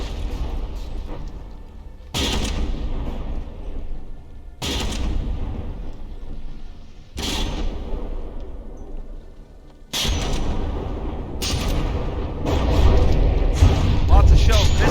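Battleship gun shells firing in the From the Depths video game, heavy booming salvos repeating every couple of seconds with rumbling low end, building into denser overlapping blasts near the end, under a commentator's voice.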